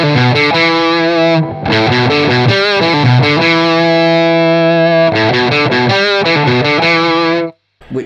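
Guitar driven through a Thorpy Veteran silicon fuzz pedal into a Marshall amp with the smooth control turned down, playing a loud, continuous fuzzy riff with clear bass definition before cutting off abruptly near the end.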